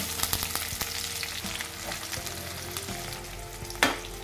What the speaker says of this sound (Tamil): இப்போ நம்ம வதக்கிறதுலே பார்த்திங்கன்னா வெங்காயம் மட்டும்தான் நல்லா வதங்கணும்